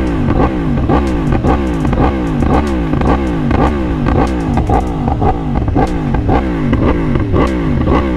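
A motorcycle engine revving hard with the throttle in rapid repeated surges, loud and close, with a brief spoken word.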